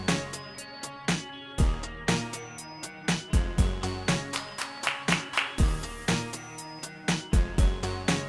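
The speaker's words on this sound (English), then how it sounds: "I had to put the reverb on the clap." A clap sample drenched in reverb in Ableton repeats in a looped electronic beat, with sharp rhythmic hits and decaying tails over a bed of other instruments, and no talking.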